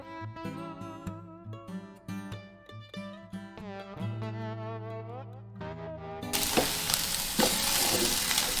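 Ground beef browning in a pan sizzles loudly and steadily, rising in after a stretch of background music and continuing up close.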